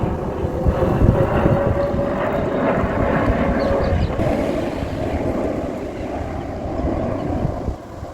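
An airplane flying over Kew Gardens in London: a loud, continuous roar close overhead that swells and then fades toward the end, with some wind rumble on the microphone and no voices.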